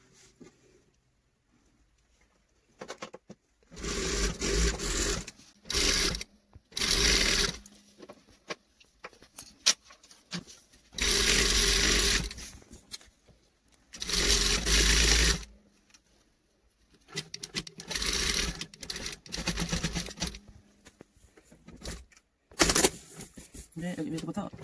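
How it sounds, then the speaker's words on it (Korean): A sewing machine stitches a folded hem on a sheer blouse made from hanbok fabric, running in several separate bursts of a few seconds each with quiet gaps between, close and fairly loud. "그래서 눌러서 박음질을 해주세요."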